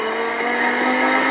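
A car engine revs steadily and loud in Forza Horizon 4 LEGO edition, a continuous sustained drone with no talk over it.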